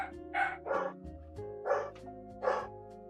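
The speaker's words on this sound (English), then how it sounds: "There's so many dogs outside." Dogs bark outdoors, a handful of separate woofs spread across the moment at moderate distance, mixed with a faint high tonal backdrop.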